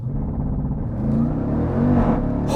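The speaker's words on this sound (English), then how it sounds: "Jeep Trackhawk launch control." A supercharged Jeep Trackhawk SUV launches hard on launch control, its engine rising from a deep rumbling hold into a climbing roar and whine, close and loud, ending in a brief burst of air noise.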